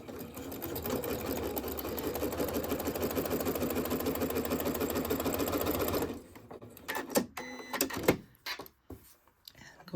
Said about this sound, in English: And we can take this to our sewing machine.